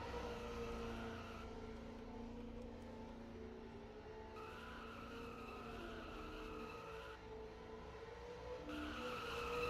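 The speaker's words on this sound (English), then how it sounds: "Hedge will join Nanners in these interesting burnouts." Race cars doing burnouts in a racing video game at the Homestead Miami track, with a continuous engine drone and drawn-out tire skidding that rises and falls, heard faintly at a low level.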